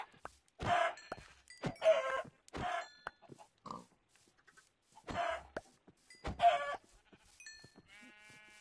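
Chickens in a Minecraft-style game, including a baby chicken, give several short clucking and squawking bursts in a loose, uneven rhythm, with brief quiet gaps between them and no talking.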